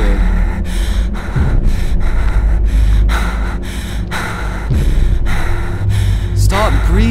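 Heavy, rhythmic breathing in a dark Slender horror game, steady loud gasps and exhales repeating through the whole stretch with a voice briefly at the end.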